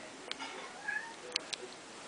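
A hungry pet cat meows a few times, short faint cries close by in a quiet room.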